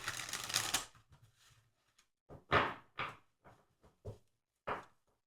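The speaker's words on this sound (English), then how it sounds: "Let's have another shuffle." Tarot cards being shuffled by hand: a dense riffle burst at the start, then a series of separate short rustling slaps and taps of the deck, close and fairly quiet with no talk.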